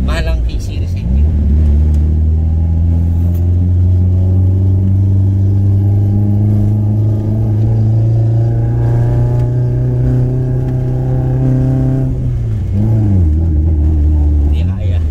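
A Toyota Trueno AE86 engine revs loud and close in low gear, its pitch climbing steadily for about twelve seconds before dropping off and settling back, with talk over the engine.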